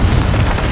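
A Confringo blasting spell goes off in Hogwarts Legacy, a short, loud, booming burst with a splintering crack that fills the whole moment.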